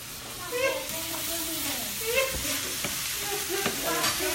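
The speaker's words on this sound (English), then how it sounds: "I'm going to saute some more greens." Greens sauteing in a hot pan hiss and sizzle steadily while a utensil stirs them with scraping strokes, close by with faint voices in the background.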